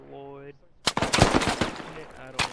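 Rapid bursts of automatic rifle fire in the tactical shooter game Squad, loud and close, rattling for over a second amid brief tonal game beeps.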